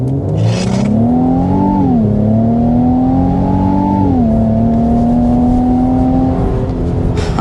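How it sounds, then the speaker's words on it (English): A 2026 Infiniti QX80 Sport SUV accelerates hard, its engine note climbing steadily through gear shifts in a loud, sustained rising drone with no talk. "But first, we need to start with a hard acceleration."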